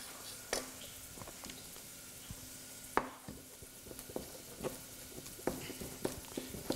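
Shrimp and garlic fry in a pan with a soft, continuous sizzle, broken by scattered sharp clicks and scrapes of a utensil stirring against the metal, close and fairly quiet.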